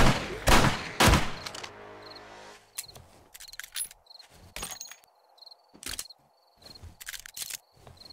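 Gunfire at zombies in the survival game 7 Days to Die: two loud shots at the start, then scattered sharper shots at intervals over a quiet background with faint chirping tones.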